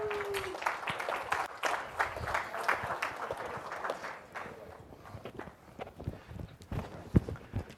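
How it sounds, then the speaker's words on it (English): An audience at a technology conference applauds, a steady patter of clapping filling the space, with scattered footsteps and faint voices underneath. "Please give them a round of applause."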